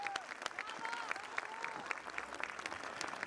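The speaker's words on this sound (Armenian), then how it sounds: "Եկեք բարձր ծափահարենք" An audience at a gala concert marking a village anniversary claps throughout, a dense patter of many hands heard at a distance, with a voice rising over it in the middle.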